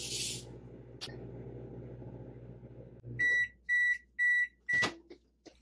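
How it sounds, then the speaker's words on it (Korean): A microwave oven hums quietly as it heats a noodle cup, then runs down and gives four loud, evenly spaced beeps near the end, with a click and a door clunk. "뚜껑을 닫고 전자레인지에 4분 정도 돌리면 끝이라고 합니다"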